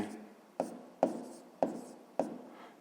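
Pen or pencil writing out a sixth-grade math expression on paper, five distinct taps and strokes in a steady rhythm, close and fairly quiet.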